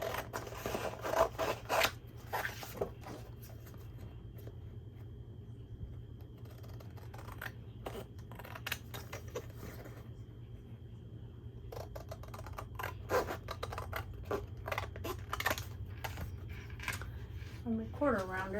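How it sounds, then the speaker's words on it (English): Scissors snipping out paper pieces for a sea turtle junk journal, a series of soft crisp cuts in short bursts over a steady low room hum, with brief quiet gaps between them. "Let's cut these out here."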